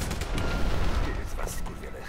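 Explosions and gunfire-like bursts from the video game Rogue Warrior crackle through a dense, noisy mix, with talking in the background.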